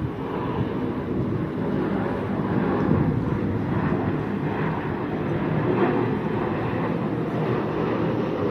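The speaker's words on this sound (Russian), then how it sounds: "Вот самолет-то и на закате." An airplane flies overhead at sunset near a marina, a steady broadband engine roar that holds at an even level throughout with slight swells, distant and continuous with no talk.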